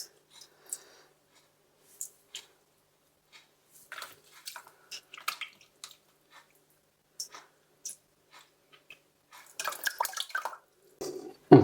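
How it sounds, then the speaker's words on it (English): Water trickles and drips in scattered bursts while jelly is rinsed off an aquarium plant for a blackwater betta tank, with brief splashes and wet squishes building into louder running water near the end. "if we get some water and just get that rinsed off"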